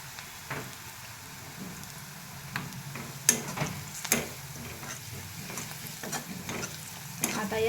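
Reddened onions with salt and turmeric frying for churma poha, stirred with a spoon that scrapes and taps the pan at irregular intervals over a steady soft sizzle, close by, without talk.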